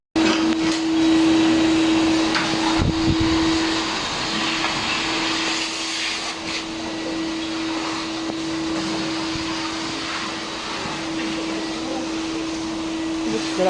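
A vacuum cleaner runs steadily and loudly up close for the whole stretch, with a constant motor drone and one brief bump early on.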